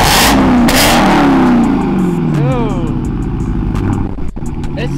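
A Lamborghini or Hellcat Redeye Charger engine revs hard and loud up close, a rising roar sweeping through a few pitch climbs, with people talking over it.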